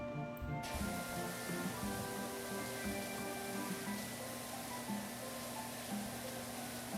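Continuous hissing spray of a pressure washer with a turbo nozzle in the game Powerwash Simulator, steady and moderately loud, layered with a faint tonal hum and occasional low knocks.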